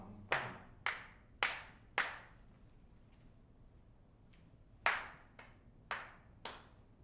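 Hands clap a rhythm in a music lesson: four evenly spaced claps, a pause, then four more, each crisp and ringing in a quiet room.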